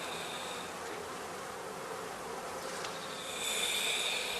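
Honey bees at a basket hive in spring hum in a steady, continuous drone, swelling slightly louder near the end, with no voices present.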